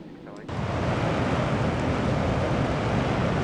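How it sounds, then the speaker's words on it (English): Concorde afterburners in Microsoft Flight Simulator ignite with a sudden surge into a loud, broad, continuous roar that stays level after the abrupt onset. "There's the afterburners."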